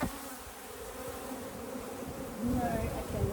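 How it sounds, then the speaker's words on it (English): Wet honey bees buzz in a dense, steady drone during a hive inspection, close and continuous, growing slightly louder near the end. "a bunch of wet bees"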